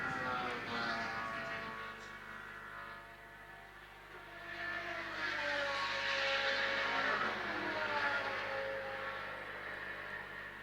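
A Camaro race car circulates during a three-hour New Zealand Endurance Championship race in 2017, its engine a steady droning roar whose pitch climbs and sweeps as it accelerates past, moderately distant with no talk over it.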